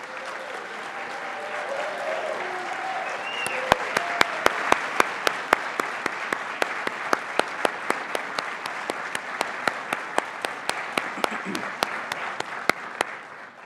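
Audience applause for newly commissioned Army second lieutenants at an ROTC commissioning ceremony, a steady crowd clapping with voices calling out early, then sharp rhythmic claps standing out above the ongoing applause.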